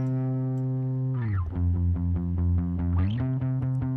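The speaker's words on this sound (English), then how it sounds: "you can hear the little bit of distortion that it gives when I crank up the tape saturation" A distorted, gritty bass guitar sustains low notes with a slight pitch drop and rise, tones fuzzy and saturated from tape saturation, playing alone at steady moderate loudness.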